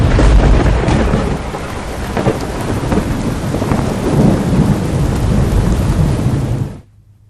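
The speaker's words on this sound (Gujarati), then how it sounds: "સમાચારની શરૂઆત તોફાની વરસાદથી" Heavy rain pours steadily during a thunderstorm in Una, Gir Somnath, Gujarat, with thunder rumbling through a dense, loud wash of rainfall that stops abruptly near the end.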